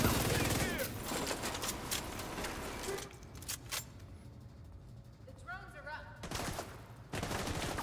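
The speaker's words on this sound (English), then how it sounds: "the enemy shooting" Bursts of enemy gunfire in the video game The Division 2 come as rapid, crackling volleys that pause briefly and then resume, loud and close, with a voice talking over part of it.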